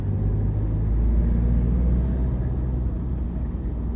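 A Tata Hexa SUV drives in third gear with a steady, low engine rumble and road drone heard from inside the cabin. The drone stays even and fairly loud throughout.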